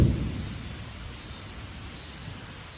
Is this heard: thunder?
yes